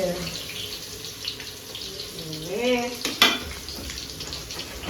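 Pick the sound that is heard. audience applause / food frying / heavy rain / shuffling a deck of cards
food frying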